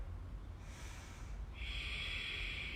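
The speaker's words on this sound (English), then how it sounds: "Let's breathe in for 4" A deep inhale taken during a gentle yoga stretch: a soft, close breath drawn in and held over a few seconds against quiet room hiss, with no talking.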